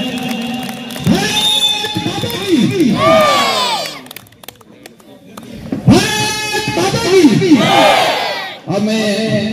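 Large crowd at the Beating Retreat ceremony on the India-Pakistan border at Suchetgarh, roaring with loud battle cries and cheers in two long swelling waves with a brief lull between.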